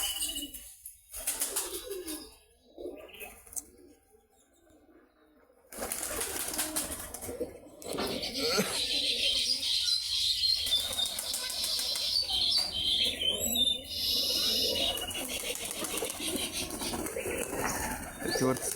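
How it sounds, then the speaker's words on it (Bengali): Giribaz pigeons at a small pigeon farm fly overhead, with bursts of wing flapping and fluttering rising from quiet gaps into a sustained busy flurry, mixed with faint chirps and coos outdoors. "দেখতে পাচ্ছেন সব গাইস গিরিবাজ কবুতর বাজি দিচ্ছে।"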